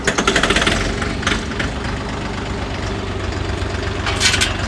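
Orion 244 RF tractor engine turning over and catching, then running at a steady knocking diesel idle, loud and close, with a few revving surges and no talk over it.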